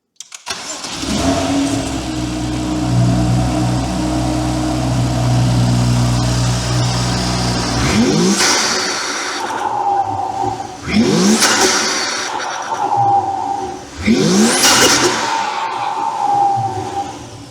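A BMW M2 fitted with a new intake filter idles with a steady low rumble, then revs hard three times in quick succession, each sharp climb and fall ringing out close and loud with no talking.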